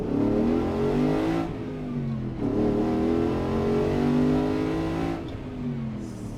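A restored and modified Ford Bronco with a 5.0 Coyote V8 and stainless exhaust revs hard in repeated rising and falling pulls, loud and close with a deep, raspy roar and no talk.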